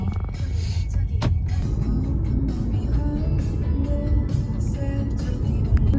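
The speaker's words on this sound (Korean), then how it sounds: "우리는 운전하는 거 처음 보시죠?" A car driving on a road heard from inside the cabin, steady low rumble of engine and tires with faint higher tones and a brief click, continuous and moderate.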